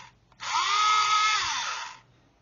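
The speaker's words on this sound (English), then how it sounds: "Just drill a series of holes." A power drill bores through a plastic 1/32 scale Lancaster bomber model part, one steady whining run of about one and a half seconds, close and loud, with no talk.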